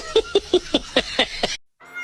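A cat meows in a quick series of seven short, evenly spaced cries, loud and close, followed by a brief silence and a faint noisy tail.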